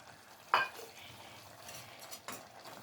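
Boiled mungre cooking in chicken masala in a pan give a faint, quiet sizzle, with two sharp utensil knocks against the pot as the mixture is stirred.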